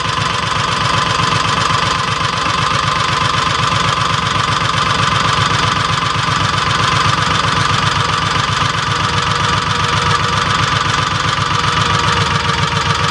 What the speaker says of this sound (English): if I turn it in clockwise, I'm going to be cutting off the fuel. That means that the RPM is going to slow down.